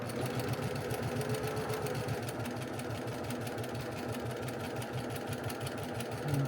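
A sewing machine chain pieces quilt blocks in a steady, close, continuous whir of rapid stitching that runs alone without pause.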